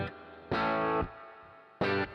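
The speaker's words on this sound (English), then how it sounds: "I'm going to max them out to their highest settings so that you can hear more of the compressor kicking in." A synth or instrument tone run through a compressor at maximum settings sounds in two bursts, the first held for about half a second, then a gap, then a second shorter burst, with a dense, squashed, distorted tone.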